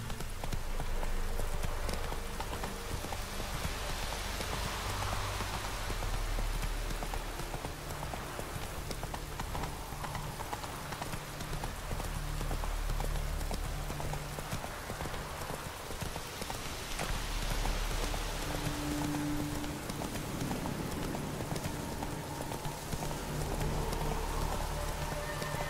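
Horse hooves clip-clop steadily while riding in the video game The Witcher 3, a continuous trotting rhythm over a constant wash of rain.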